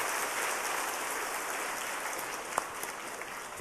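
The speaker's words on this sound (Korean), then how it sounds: "우리 뜨거운 박수로 축복하겠습니다." Congregation applauding during a Sunday church service, a soft, steady wash of clapping heard from a distance and sustained through the whole stretch, with one sharper clap standing out.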